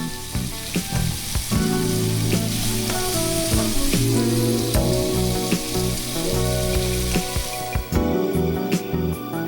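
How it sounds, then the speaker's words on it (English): An egg fried in a hot pan sizzles loudly and steadily in a close, dense crackle, with sharp clicks and pops scattered throughout and light clinking that sounds like music in the background. "grab 1 egg, crack that onto a pan, and let it simmer"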